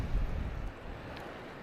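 Gusty wind blowing across a calm beach on Marco Island, a steady low rumble of wind buffeting the microphone, strongest at the start and then settling into a softer, continuous wash.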